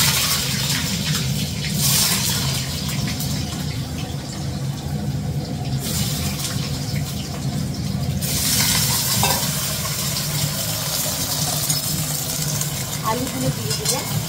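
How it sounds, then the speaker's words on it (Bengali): Potatoes fry in oil tempered with black cumin for a drumstick, tomato and potato curry, sizzling steadily over a low hum while someone talks over it at times. "এবার তেলের মধ্যে আলুটা একটু ভাজতে"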